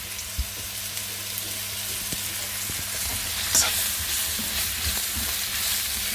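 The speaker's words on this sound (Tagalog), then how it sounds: "Ilagay po na po yung mushroom with garlic." Chestnut mushrooms with garlic frying in a pan give a steady, close sizzle with occasional stirring clicks and scrapes, with no talking.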